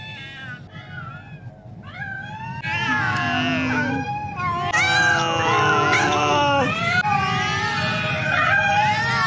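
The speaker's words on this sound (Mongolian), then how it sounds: "уцсны цаанаас өнөө муурын дуу мяавлан дуулдхан тэр." Loud, drawn-out cat meows follow one after another, rising and falling in pitch and sometimes overlapping into a steady caterwauling chorus.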